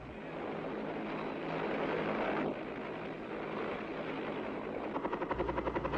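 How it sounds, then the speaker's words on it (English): Military helicopter gunships fly over a target area, a steady loud rotor and engine roar with wind noise that swells, then shifts, and ends in a pulsing, chopping beat as one passes close. "Helicopter gunships come over the target to reconnoiter and to suppress enemy movement in the area."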